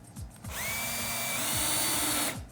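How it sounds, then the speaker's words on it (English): A power drill whirs steadily into pallet wood at a 45-degree angle through a rail for about two seconds, with a rising motor whine as it bites in, then winds down. "you're gonna wanna drill at about a 45-degree angle through the rail"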